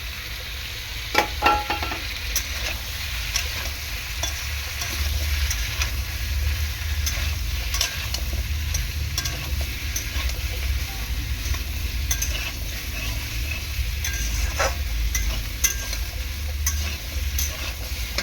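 Soybeans and chickpeas with vegetables frying in a pan, a continuous sizzle under a spoon stirring with occasional clinks and scrapes against the metal, with no talking.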